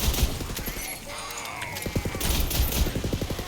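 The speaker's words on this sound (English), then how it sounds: "Pistol! That's all I got left." Rapid bursts of pistol gunfire in the Tiny Tina's Wonderlands video game, sharp repeated shots in quick volleys with a brief lull between them, loud and close.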